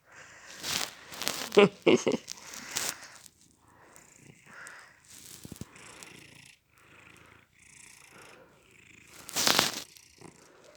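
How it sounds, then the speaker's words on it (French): A cat purrs close by in soft rumbling stretches, interrupted by rustling and crinkling handling noises. "Ça ronronne, ça ronronne."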